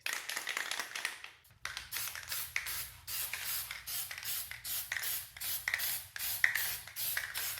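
A can sprays Plasti Dip onto a Porsche body kit in repeated close, hissing bursts with short pauses between passes, after a few light taps at the start.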